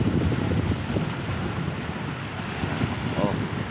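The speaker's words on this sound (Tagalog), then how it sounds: "mataas talaga yung alon" Big ocean waves roll in at Matnog port, a low continuous rushing surge heavily buffeted by strong wind noise on the microphone.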